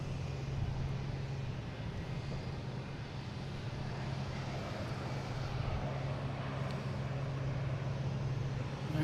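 Delta Embraer E175 regional jet arriving at Boston Logan, a faint, steady distant engine drone holding level throughout with no voices.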